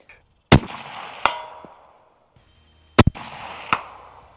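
Rifle shots ring off a hanging steel gong target outdoors at a range, each sharp crack followed by a bright metallic clang that rings and decays, several impacts spaced a second or so apart.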